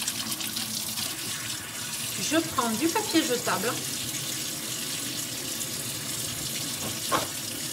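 Water runs steadily from a tap into a sink during handwashing, a continuous splashing hiss, while a person speaks briefly in French over it.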